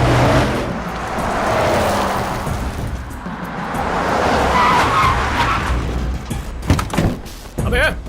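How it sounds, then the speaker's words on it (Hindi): A car braking hard on a road, tires skidding in a long, loud screech that fills most of the stretch, followed by a few sharp bumps and thuds, with traffic noise around. "मैं ब्रेक नहीं लगाता तो गाड़ी ठुक जाती।"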